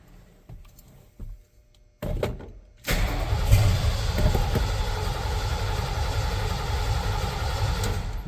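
A truck engine cranks steadily after a door thud and some clatter, the starter grinding on and on without the engine catching; a vacuum line is off.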